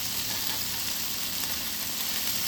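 Pepper dry chicken with crushed garlic, salt and pepper being fried and turned in a pan, giving a steady, close, dense sizzle that holds evenly throughout without pause.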